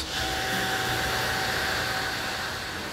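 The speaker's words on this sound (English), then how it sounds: "the cleaner must suck up enough dust from the carpet" A Henry vacuum cleaner runs continuously, sucking dust from carpet with a steady loud whooshing roar and a faint high motor whine, unbroken for the whole stretch.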